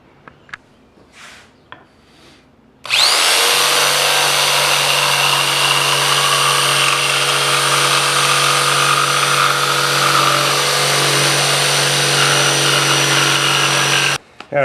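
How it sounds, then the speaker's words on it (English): A jigsaw cuts a design into cherry wood for a miniature table, starting abruptly after a few seconds of quiet and holding a loud, steady, buzzing whine for about eleven seconds before stopping. "we're going to use a jigsaw to cut out that design"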